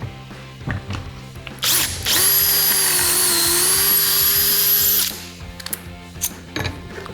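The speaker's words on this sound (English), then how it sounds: "And now, just drill the hole." A power drill whines loudly at a steady pitch for about three seconds, boring a pocket hole into wood through a Kreg 300-Series pocket-hole jig, with clicks and handling noises before and after.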